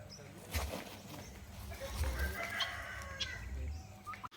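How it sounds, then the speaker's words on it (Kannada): Chickens cluck and a rooster crows at a resort in Kanakapura, the fowl calls coming in short bursts at moderate distance over a steady outdoor background, with people talking nearby. "ಇಂಥ ಕೋಳಿ ಜೀವನದಾಗ ಫಸ್ಟ್ ಟೈಮ್ ನೋಡಿದ್ನೋಡ"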